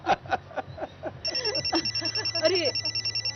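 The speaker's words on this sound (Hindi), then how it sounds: "अरे नरमीन का फोन है" A telephone rings repeatedly in an indoor domestic drama scene, starting partway through with a steady, insistent trill that continues to the end, following brief background sounds.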